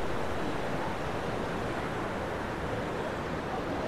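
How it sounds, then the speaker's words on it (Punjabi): Steady, close roar of fast-flowing mountain river water on the Manimahesh Yatra route near Dhansho, a dense unbroken wash of rushing noise at moderate level with no voices over it. "ਬਹੁਤ ਸਪੀਡ ਨਾਲ ਪਾਣੀ ਆ ਰਿਹਾ ਦੇਖੋ"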